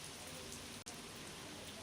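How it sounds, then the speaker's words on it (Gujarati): Heavy rain from Cyclone Ditwah falls in Andhra Pradesh, a dense, steady rushing hiss that fills the whole clip with one momentary break. "વરસાદ વરસી રહ્યો છે ભારે માત્રામાં"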